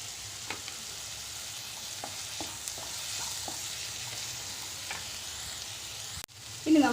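Chopped capsicum sizzles and fries steadily in a pan while being stirred, with scattered scrape and clack accents from the spoon, one brief gap near the end followed by a louder burst; no talking.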